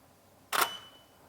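A camera shutter fires once, sharp and close, while shooting a medium format film negative for scanning, followed by a faint fading ring and quiet room hiss.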